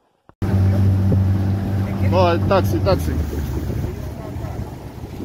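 A motorboat crossing a river drones steadily with loud wind buffeting the microphone, beginning abruptly after a brief silence, while people talk briefly over the engine.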